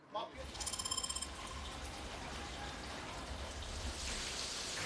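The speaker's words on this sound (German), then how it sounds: "Und es regnet in Strömen." Heavy rain pours down in Istanbul, a dense, steady hiss of drops hitting surfaces, with a short rattling burst near the start before settling into continuous downpour at moderate distance.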